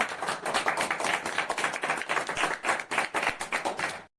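Steady audience clapping from a comedy game-show studio crowd, many hands beating fast and dense throughout, loud and fairly close, with no voices over it.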